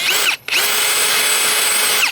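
A power drill whines loudly and close up as it opens screw holes in a Kydex sheath. A short burst is followed by a brief stop, then one steady, sustained run.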